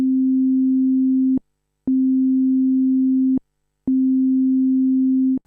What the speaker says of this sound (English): The waveform is set to a sine wave